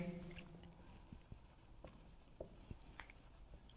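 Chalk or marker strokes on a board during a physics lecture on reflection of light, a quiet run of scratchy taps and short scrapes recorded close up, with no talking over them.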